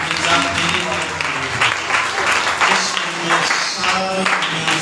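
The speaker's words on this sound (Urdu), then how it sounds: "آئیں اپنے دلہا کے لیے زوردار تالیاں بجائیں گے۔" A church congregation claps loudly during an Urdu-language service, dense rhythmic clapping that runs throughout with voices calling out over it.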